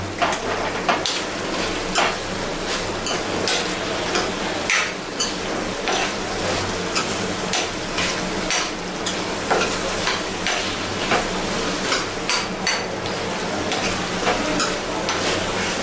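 Chicken and cucumber curry with chili powder is stirred in a sizzling pan, the steady frying hiss broken by frequent sharp clicks and scrapes of the spoon over about sixteen seconds.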